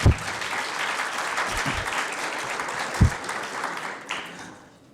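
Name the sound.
audience applause for TAs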